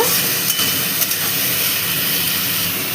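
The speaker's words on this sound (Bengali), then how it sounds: "এবার দিয়ে দিচ্ছি এর মধ্যে পেঁয়াজ। এবার এটাকে ভেজে নেব।" Chopped onions frying in a pan for Bengali-style chirer polao, a flattened-rice pulao, giving a loud, steady broadband hiss that holds evenly throughout with only a couple of slight pops.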